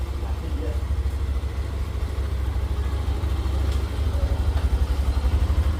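A new Hero Xstream 125R motorcycle runs with a steady low throb and rhythmic pulsing from its engine. The sound is close and fairly loud, with a light mechanical clatter mixed in.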